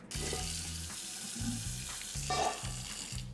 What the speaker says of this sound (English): we're gonna put just a little bit of water in the Instapot